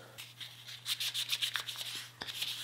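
Guitar wood is hand sanded with 1200 grit sandpaper in a finishing workshop. Close, rhythmic back-and-forth rubbing strokes follow one another steadily, with a brief pause near the end and no talking.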